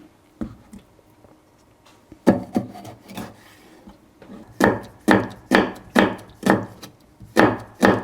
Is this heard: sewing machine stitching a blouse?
no